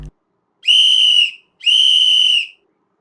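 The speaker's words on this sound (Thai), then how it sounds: "ยกตัวอย่างเสียงนกหวีดค่ะ" Two sustained shrill whistle blasts, each about half a second to a second long, with a short gap between them, loud and clear with no voices.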